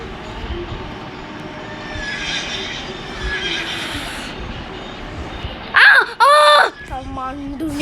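A horse neighs twice in a Roblox dungeon obby game, loud whinnies near the end over a steady game background with a voice talking.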